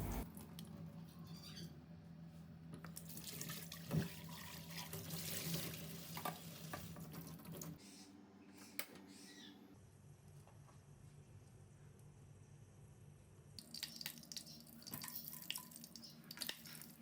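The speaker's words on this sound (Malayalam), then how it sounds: "ഇനി കുറച്ച് കട്ട് വെജിറ്റബിൾ ഒന്ന് വെള്ളം ഒഴിച്ചിട്ട് ഊറ്റിയെടുക്കണം" Water from a tap runs steadily over cut vegetables in a kitchen sink, then drains and trickles off. There are brief pauses before a final splashing burst, and no talk.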